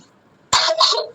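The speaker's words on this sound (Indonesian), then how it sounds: "saya batuk" A single sharp cough close by during an interview, abrupt and loud after near silence, with a rough breathy tail.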